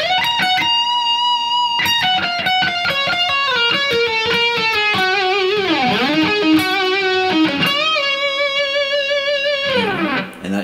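A distorted electric guitar plays the lead break of a riff, bending, sliding notes and rapid runs, loud and continuous with no voices.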